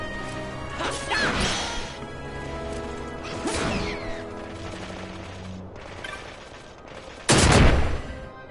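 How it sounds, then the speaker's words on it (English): An explosion trap goes off in the Tomb of King Raithwall in Final Fantasy XII: The Zodiac Age, with several loud crashing blasts over a dense, roaring game soundscape, the last burst the sharpest. "An explosion trap."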